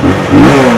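Engine of a 2020 Benelli TRK 251 ABS motorcycle with 23,000 mileage, a short, loud, close rev rising in a buzzy mid-pitched drone.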